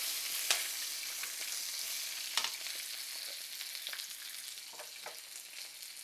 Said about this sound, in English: You let that sizzle for a minute.